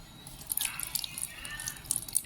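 Clean water poured into a bowl with ground salt to make salt water, a faint trickle with light splashing drips throughout, close by and without talk.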